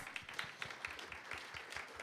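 Faint audience applause at an open innovation business event, an even patter of many hands clapping at a distance for about two seconds.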